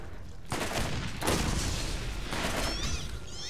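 A grenade blast and dense gunfire in the video game Borderlands, a sudden burst followed by a sustained rattle of shots and further loud impacts, with no voices.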